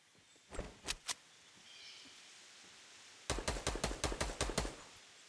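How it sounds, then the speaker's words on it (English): Axe chops on trees in Fortnite Battle Royale: a few quick strikes early, then a fast regular run of about eight louder hits, all fairly close with no talk. "gonna start chopping some trees down."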